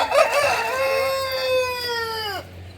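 A chicken gives a few quick clucks and then a single long crow that holds and drops off abruptly near the end, close and loud against a quiet background.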